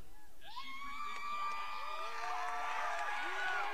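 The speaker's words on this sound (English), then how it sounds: "Huge crowd from the Lyman." A big Lyman crowd at the Lyman vs Rawlins state championship roars and cheers, with rising whoops and shouted voices layered over a sustained wash of crowd noise.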